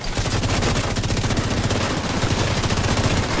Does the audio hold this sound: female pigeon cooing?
no